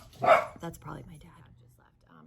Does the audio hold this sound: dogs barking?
yes